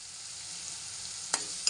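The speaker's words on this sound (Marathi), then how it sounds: "व्यवस्थित परतून घेऊया आपण तेलामध्ये चांगला मसाला सुटला पाहिजे" Fish masala frying in oil in a pan for a spicy crab curry, giving a constant bright close sizzle with two sharp scraping knocks of stirring near the end.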